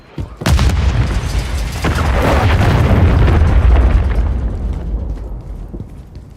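Cruise missile explosion in Warzone, a loud deep boom that swells into a long rumbling roar over several seconds and then slowly fades.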